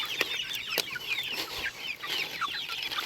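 Young future laying hens cluck steadily and overlap one another while eating grain-free grub feed on a homestead, with close, busy chatter throughout.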